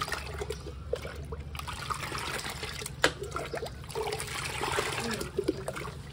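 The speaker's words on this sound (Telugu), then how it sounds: "ఈ విధంగా పోసుకొని దీన్ని ఇలా మిక్స్ చేసుకోండి." Liquid organic fertilizer is poured into about twenty litres of water and stirred, giving a close, continuous trickling and sloshing with occasional small splashes and a single sharp knock midway.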